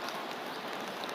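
Rain pours steadily over an open-roof stadium at Seoul's Olympic Park, a dense, even hiss that fills the whole moment with no voices and no breaks.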